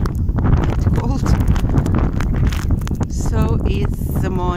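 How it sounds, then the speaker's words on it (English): Strong wind buffets outdoors on a cold morning with low rumbling gusts, while people talk and a few goat cries come through. "It's windy and cold."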